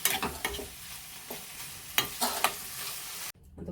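Paneer frying in about two spoons of oil in a small pan, with steady close sizzling broken by several louder stirring scrapes, ending abruptly.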